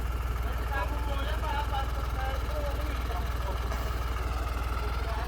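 The engine of a New Holland 3630 tractor pulling a plough drones loud and steady with a rapid low throb, close by, while someone talks over it.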